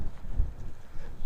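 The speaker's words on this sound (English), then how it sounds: "As always in the UK, it is very windy at this point." Blustery coastal wind at Weston-super-Mare buffets the microphone in low, rumbling gusts, loud and uneven for just over a second.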